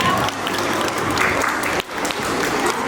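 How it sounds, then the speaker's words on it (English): Loud, steady applause from an audience at a Republic Day event, dense clapping that fills the whole stretch with only a brief dip near the end. "Please welcome him with a huge round of applause."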